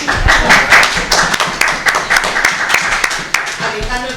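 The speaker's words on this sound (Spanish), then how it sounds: "Aplausos para Cristina." An audience at an international seminar panel applauds with dense, continuous clapping at close range, and voices come through beneath the clapping.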